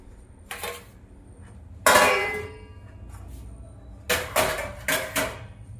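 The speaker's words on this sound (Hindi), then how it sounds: "बस अब इस पे प्लेट ढक दूंगी और धीमी आंच में बनाऊंगी" A metal plate set down over a cooking pan as a lid in a home kitchen, heard as a few sharp clangs and clinks, one loud clatter followed by a quick cluster of knocks, close up with no talking.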